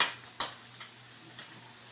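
A tortilla cooking in a hot pan for enchiladas, with a faint steady sizzle and a few soft ticks and taps of handling, quiet and close, with no talking.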